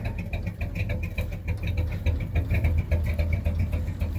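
A truck engine running rough after overheating idles unevenly up close, a low steady rumble with irregular pulsing and a faint ticking texture throughout.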